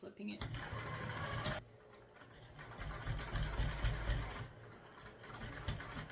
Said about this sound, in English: I'll just top stitch right across here